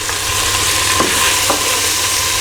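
Chicken and chorizo fry in a pan with Jamaican jerk seasoning, a loud, close, continuous sizzle broken by a couple of scraping stirs, and no voices.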